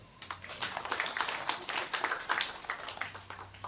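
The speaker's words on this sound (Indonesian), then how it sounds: "Tepuk tangan dong" Audience applause at a talk by the head of PHDI Banten province, a steady patter of many hands clapping at moderate distance for several seconds, with no talk over it.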